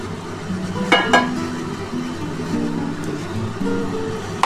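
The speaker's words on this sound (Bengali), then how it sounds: "এবার আমি মাছগুলো দিয়ে দিচ্ছি, যে মাছগুলো আমি দিয়ে দিলাম বন্ধুরা।" Tangra fish sizzling in hot spiced oil in a pan, a steady frying hiss with a couple of sharp clinks of a utensil against the pan close by.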